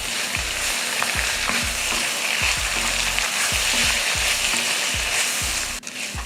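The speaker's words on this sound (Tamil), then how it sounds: "புதினா மல்லித்தலை போட்டு லைட்டாக வதக்கிக்கிட்டால் போதும்." Mint and coriander leaves sautéing in a hot pan for a chutney: steady close sizzling and crackle broken by a regular series of scraping stirs, with no talk.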